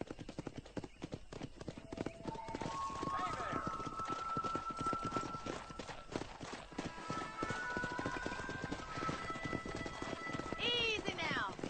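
Horses trot in the Red Dead Redemption video game, steady clip-clop hoofbeats with a whinny near the end, over background music and a voice urging the horse on.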